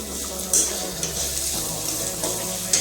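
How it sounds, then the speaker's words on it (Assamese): Ginger, garlic and onion paste sizzling and frying in a pan with steady crackle, punctuated by a few stirring scrapes; no voices. "মই আদা নহৰু পিঁয়াজ পেষ্ট কৰি কিনে ধুনীয়াকৈ ভাজি আছোঁ"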